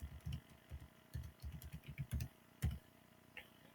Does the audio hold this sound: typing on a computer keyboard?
yes